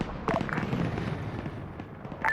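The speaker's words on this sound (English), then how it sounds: "Just dumped a missile into that bunker." A missile striking a bunker in a military video game, heard as a muffled blast followed by scattered crackling and rumble, with a sharper pop near the end. Distant gunfire-like cracks sit in the mix, and no one talks.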